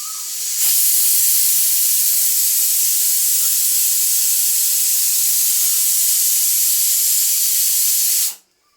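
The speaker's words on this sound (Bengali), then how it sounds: "এই কুকারে সিটি দেওয়া শুরু হয়ে গেছে" Pressure cooker on a cooking stove letting off a loud, continuous hiss of escaping steam that starts abruptly, holds steady for about eight seconds, then cuts off sharply.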